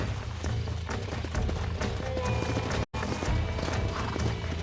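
Horse hooves clip-clop steadily at a trot in the Red Dead Redemption video game, loud and close, with a brief dropout near the middle and a faint voice at times.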